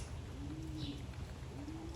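Young racing pigeons walking about a yard in the early morning give two low, throaty coos, close by, over a steady faint outdoor hush.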